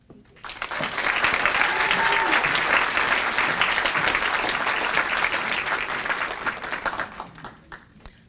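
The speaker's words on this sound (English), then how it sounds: "I think we should give them another round of applause." Dense, steady audience applause at a school Founders' Night ceremony builds within the first second, holds at full strength for several seconds, then tapers toward the end.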